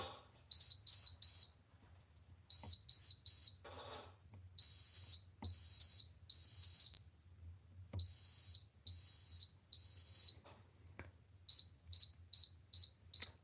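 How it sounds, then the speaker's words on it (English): Loud, high electronic beeps from a device signalling it is ready: a quick triple, another triple, then longer tones, then a rapid run of short beeps, with quiet gaps between. "it should give us 3 long beeps and then 3 long beeps followed by continuous beeps"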